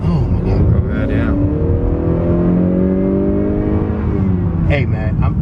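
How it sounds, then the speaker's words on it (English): A 2018 Honda Accord Touring with a 10-speed automatic accelerates hard, heard from the cabin as a loud engine note rising and dropping through several quick gear changes, with brief voices near the end. "So you notice that the gears shift very quickly."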